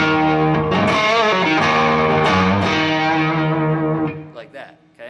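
Distorted electric guitar plays a riff with string bends and pull-offs, loud and gritty with effects, then cuts off abruptly into a few quiet string noises at the end.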